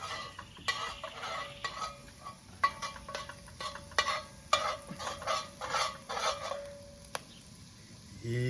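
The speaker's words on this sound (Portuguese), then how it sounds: "E fritando o alho, né? Quase já está fritando aqui" Garlic sizzles softly in a pan while a utensil scrapes and taps against the metal in irregular strokes, a close, quiet stirring over a faint frying hiss.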